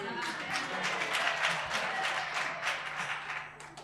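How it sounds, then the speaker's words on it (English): Applause from colleagues in the audience at a university library international conference, a continuous, moderately loud patter of many hands clapping throughout. "Another round of applause for me, please"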